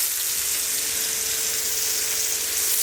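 Beef browning in a hot pan, with onion added for a slow-cooker beef stew, gives a loud, steady sizzle of frying that holds unbroken throughout, with no voices.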